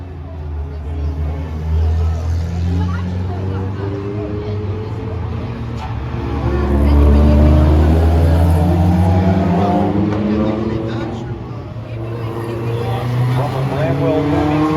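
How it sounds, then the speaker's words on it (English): A V8-powered Triumph TR8 race car rumbles past at a classic street-circuit event, its engine swelling to a peak midway before easing off, while a commentator talks throughout. "the V8 powered Triumph"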